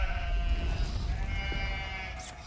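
Sheep bleating in the Catan board video game, one long wavering bleat held over a low rumbling bed, loud and close, with a faint higher sound near the end.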